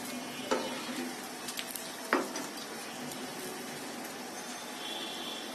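A snack fries in hot oil in a pan with a soft, steady sizzle, punctuated by a couple of sharp clinks as the pieces are stirred and turned.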